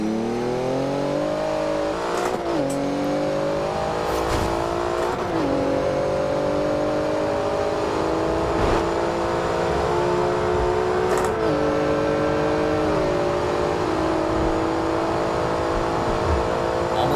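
A Porsche 911 GT2 RS in Forza Horizon 2 accelerates toward top speed, its engine note climbing steadily through several gear shifts with brief dips between them, loud and continuous with no talk.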